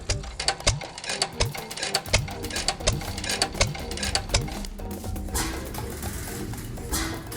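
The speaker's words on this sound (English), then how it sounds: "The firing beat is sparse and clattery, but it is insanely fuel efficient and extremely durable." A hit-and-miss engine thumps out a sparse, clattery beat, each firing followed by rapid mechanical clicking as the flywheel coasts, heard loud and close, with the firing gaps growing toward the end.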